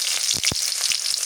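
Chopped onion hits hot oil in a village kitchen, giving a loud, close sizzle broken by a few sharp crackles and stirring scrapes, with no talking.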